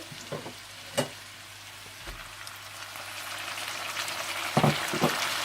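Potatoes fry in a pan with a continuous soft sizzle, punctuated by a few clinks and scrapes of stirring near the start and end.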